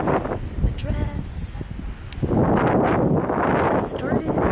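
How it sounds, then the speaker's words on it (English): Gusty wind buffets the microphone in rough bursts, growing stronger and steadier in the second half, with some faint rustling. "It's so windy today."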